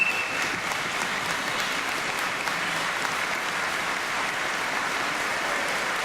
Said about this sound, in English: Let's give him a round of applause, Governor Pat McCrory.